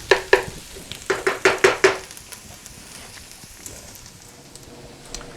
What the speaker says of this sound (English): I still see some pink bacon. So I really want to let this just really render.